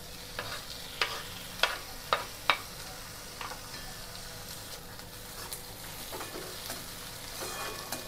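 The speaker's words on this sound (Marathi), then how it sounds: "टोमॅटो घालून घेते." Tomatoes are stirred into cooked onions in a pan for poha, producing a continuous soft sizzle punctuated by sharp spoon clicks and scrapes against the pan, heard close up with no speech.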